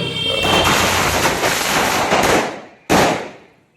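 A dense, loud crackling barrage of Sivakasi firecrackers bursting continuously at a political celebration in Tamil Nadu, fading out, then one more sharp burst of crackles that tails off.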